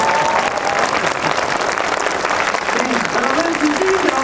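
An audience at a film screening's guest talk applauds, a dense, steady wash of clapping from a packed hall that carries evenly from start to finish with a voice faintly over it.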